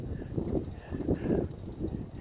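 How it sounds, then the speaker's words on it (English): Low, blustery rumble of wind buffeting the microphone outdoors in South Dakota, surging and easing in gusts throughout. "Well, I guess here comes the wind."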